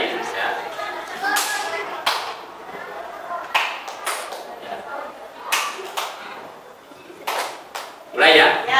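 Hand clapping during a classroom group activity: a handful of sharp, separate claps spaced unevenly over several seconds, fairly close, with a busier burst near the end.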